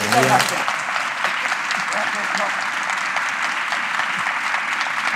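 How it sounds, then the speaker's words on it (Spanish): Audience applause at a talk and interview event in Llanera, Asturias, a steady broad wash of clapping throughout, with a brief voice at the very start before the clapping takes over. "un aplauso fuerte"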